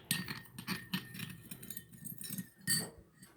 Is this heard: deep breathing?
no